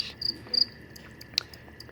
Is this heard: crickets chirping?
yes